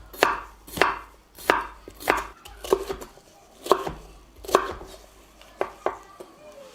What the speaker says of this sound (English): we're going to cut little strips and then little cubes